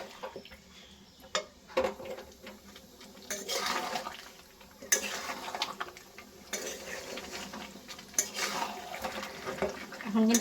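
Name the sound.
stir-frying chicken curry with potatoes in a pan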